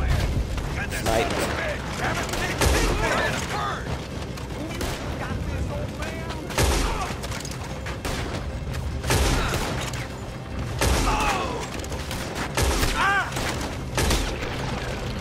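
Gunfire in Red Dead Redemption 2 rings out in repeated sharp bursts and booming shots, some clustered close together, mixed with game sounds and people talking over the action.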